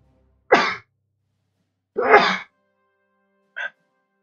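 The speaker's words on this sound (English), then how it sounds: "Apologize, I had to sneeze." A person sneezes up close in an otherwise silent room: two strong bursts a second and a half apart, then a shorter, weaker third.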